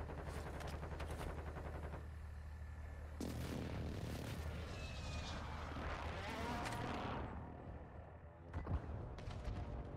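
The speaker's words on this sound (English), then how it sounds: "Friendly airstrike in the AO." Heavy airstrike blasts and crackling gunfire rumble through a Call of Duty Warzone Mobile match, a dense, continuous barrage that swells after a few seconds and tails off near the end.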